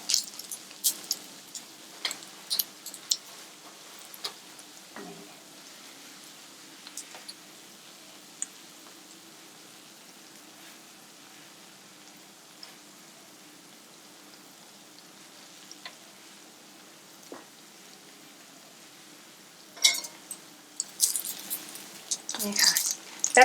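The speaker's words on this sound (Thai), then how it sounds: "แล้วก็เอาลงไปทอดในน้ำมันเลย" Soft crackling and popping of egg-dipped bread frying in oil, quiet and steady with occasional sharper spits, growing busier toward the end.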